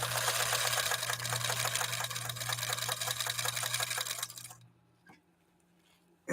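A 1954 Husqvarna sewing machine stitching in a fast, steady mechanical whir with even rhythmic clatter, loud and close, stopping abruptly near the end followed by a faint click.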